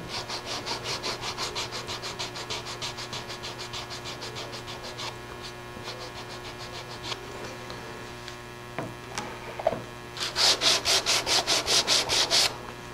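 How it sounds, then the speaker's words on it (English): Steady back-and-forth rasping of hand sanding around masking tape on a wood surface, continuous strokes over a low mains hum, ending with a faster, louder run of strokes. "I'll check periodically to make sure that I'm not sanding through the masking tape"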